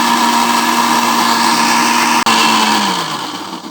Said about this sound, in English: I put it here in the blender.